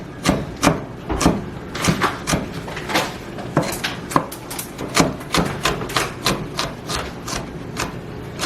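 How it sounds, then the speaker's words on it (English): Knife chopping peppers and onions on a cutting board: a steady series of sharp, evenly spaced thuds, close and fairly loud, with no voices. "the most consuming part of this dish is chopping all of the peppers"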